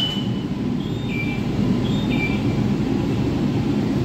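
A Kolkata Orange Line metro train runs along the line toward Kavi Subhash, a steady loud rumble of wheels and motor with faint high whines rising and falling, carrying on without voices.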